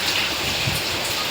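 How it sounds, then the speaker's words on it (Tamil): Heavy rain pours down in a dense, constant hiss of drops on surfaces. It is loud and close, with no break. "மழை பிச்சு ஊற்றுது."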